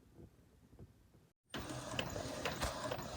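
After a quiet stretch and a brief silence, a home printer printing an HTV iron-on design starts up with a mechanical whir and clicking feed noises, moderately loud and close.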